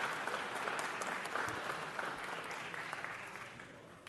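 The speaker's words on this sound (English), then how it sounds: "let's give a round of applause to our colleague Tom LaBonge" Members at a city council meeting give a round of applause for colleague Tom LaBonge, a dense, fairly distant clapping that slowly tapers toward the end.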